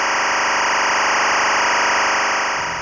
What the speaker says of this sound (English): The timecode sounds horrible